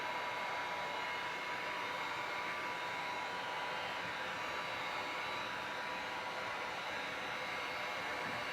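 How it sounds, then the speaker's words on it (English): A heat gun blows continuously while curving an acrylic sheet, a steady, even hiss of rushing hot air with no breaks or changes in level. "Then I use a heat gun to put a slight curve in the acrylic sheet"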